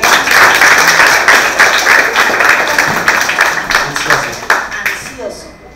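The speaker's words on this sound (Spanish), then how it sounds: "El aplauso para Joinel." An audience at a regional school quiz final in Guna Yala applauds a contestant with dense, loud clapping that fades gradually over several seconds, with a few people's voices mixed in.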